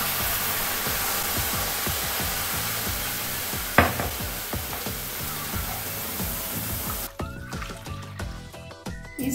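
Milk is poured into hot caramelized sugar in a pan for mishti doi and sizzles loudly in a steady hiss, with spoon-stirring scrapes, then the sizzle abruptly dies down as it settles.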